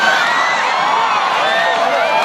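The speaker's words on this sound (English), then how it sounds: "Hundreds of people stopped to watch and cheer." A dense crowd cheers and whoops at Federation Square in Melbourne on Melbourne Cup Day, a loud, continuous roar of many voices.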